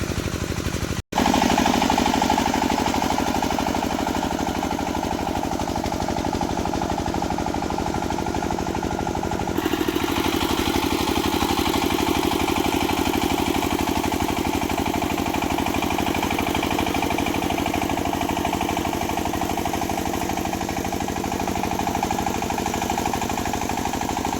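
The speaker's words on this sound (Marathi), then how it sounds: "ह्या ट्रॅक्टरने एकदम उत्तमरित्या भर पडते" An 18 HP power tiller engine runs steadily while earthing up sugarcane, with a loud, rapid chugging rumble close by, continuing without pause throughout.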